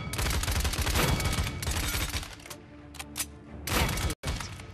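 Rapid gunfire in Paladins, fired at red-outlined enemy illusions, a dense rattling burst that thins into scattered shots and short cracks, ending after a brief dropout, no talking.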